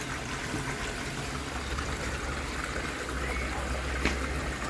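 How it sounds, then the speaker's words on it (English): Water trickles and splashes steadily as an aquarium is topped up, a continuous close pouring hiss with one small bump near the end and no voices. "Just topping the water up"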